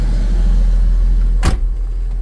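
A 1996 Jeep Cherokee door shuts with a single sharp, close thump over a steady low idle and air-conditioner hum, no talking.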